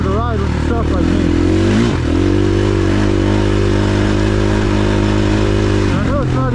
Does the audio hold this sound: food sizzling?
no